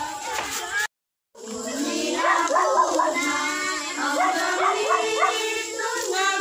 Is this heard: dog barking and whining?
yes